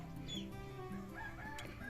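Chickens cluck and squawk in short, overlapping bursts, fairly close, with a rooster-like call rising briefly among them.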